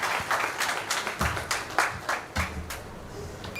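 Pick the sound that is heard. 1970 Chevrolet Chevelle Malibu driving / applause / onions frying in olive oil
applause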